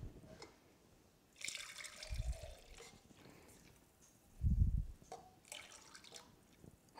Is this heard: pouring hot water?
yes